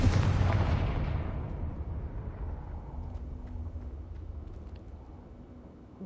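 A Confringo blasting spell goes off in Hogwarts Legacy: one heavy, loud explosive boom at the start, followed by a long rumbling decay that fades over several seconds.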